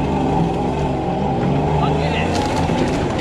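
A supercharged Toyota Hilux truck on a bouncy test drive, its engine a loud, steady roar with rumbling road and bump noise throughout, and a brief voice heard over it.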